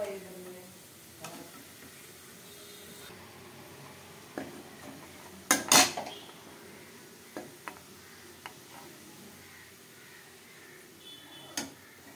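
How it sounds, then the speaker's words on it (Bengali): Onions browning in a pan for chicken biryani, with a low steady sizzle of frying throughout and occasional clicks and scrapes of stirring, one louder scraping burst in the middle, no voices. "এতিয়া পিঁয়াজখিনিয়ে দেখিছে ৰঙচুৱা কৰি আছোঁ"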